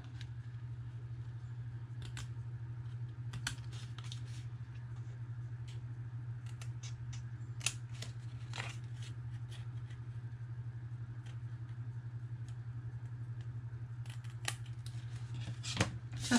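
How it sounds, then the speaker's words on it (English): Scissors snip scored square pieces of paper for a paper purse gift card holder, sharp close clicks scattered irregularly over a steady low hum, with no talking. "So we're just going to cut those out."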